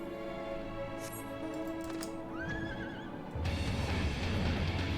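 Horse whinnies and neighs in Final Fantasy XIV over game ambience and faint clip-clop, ending in louder mixed background noise.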